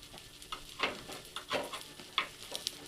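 Idli batter appe sizzle softly in oil in a pan, with faint crackling and a few sharp clicks and taps at irregular intervals, quiet and close.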